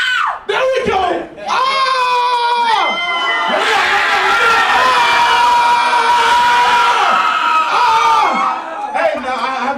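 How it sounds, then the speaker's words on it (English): A conference audience screams and cheers as loud as it can, and the crowd roars in a sustained, close wall of shrieks and whoops that swells and dips across several seconds. "I want you guys to scream as loud as you can"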